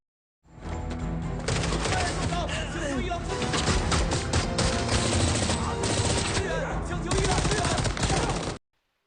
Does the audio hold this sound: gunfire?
yes